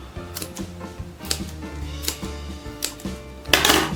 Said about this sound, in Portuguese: E recortar aqui o excesso desse zíper.